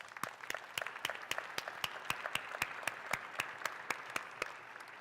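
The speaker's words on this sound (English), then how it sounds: "Can we give her a round of applause," A small audience claps for a dental patient at a clinical presentation, the separate hand claps sharp and fairly sparse, steady through the whole stretch.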